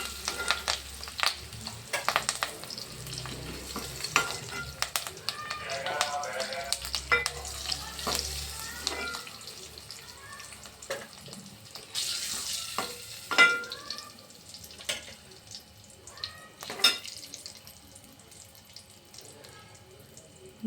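Curry leaves fry in hot oil in a pan, giving a loud, close crackling sizzle with sharp pops and bursts of spattering that rise and fall, plus a few clinks of stirring.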